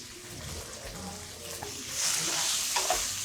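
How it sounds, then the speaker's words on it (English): Onions and peppers searing in a pan for fajitas, a moderately loud crackling sizzle with stirring sounds that swells louder in the second half, with faint background voices. "we want to get these onions and peppers with a little bit of the black char on them"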